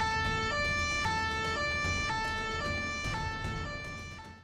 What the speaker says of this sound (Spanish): oyó el chirriar de unos neumáticos contra el asfalto y las sirenas que empezaron a ulular